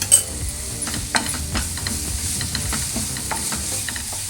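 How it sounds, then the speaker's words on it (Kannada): Ginger garlic paste sizzles steadily in a hot pan for an egg curry masala, with a spoon stirring and scraping at intervals over the continuous frying hiss. "ಸೊ ಇದೊಂಚೂರು ಚೆನ್ನಾಗಿ ಹಸಿ ವಾಸನೆ ಹೋಗೋ ತನಕ ಫ್ರೈ ಆಗಲಿ."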